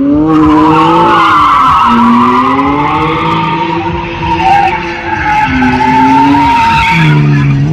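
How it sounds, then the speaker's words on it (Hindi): A Lexus fitted with a 2JZ engine drifts at a race-wars event, its engine wailing loud and close while the tires squeal continuously, pitch rising and dipping with each throttle change. "टू जे जी है लेक्सस उस इंजन साउंड का सुनने का ना अलग ही मज़ा आएगा"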